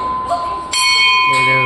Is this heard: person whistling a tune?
no